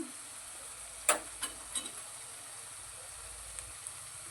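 Sliced onion fries in hot oil in a pan as spices are tipped in, giving a soft steady sizzle with a few sharp clicks and clatters from the spoon and pan, close and fairly quiet.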